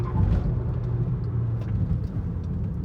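Low engine rumble from a car while driving, a steady near drone with slight fluctuations and no talking.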